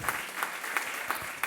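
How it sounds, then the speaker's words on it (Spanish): Church congregation applauding as an offering of praise, dense steady clapping from many hands filling the room, with a few sharper claps standing out. "Dele una ofrenda de palmas al Señor."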